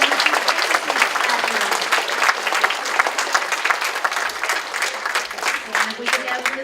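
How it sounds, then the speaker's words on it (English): Loud, sustained applause from a crowd at a school DARE graduation, dense and steady clapping from many hands that continues at an even level with a murmur of voices underneath. "Big round of applause for Mrs. Jones and Mrs."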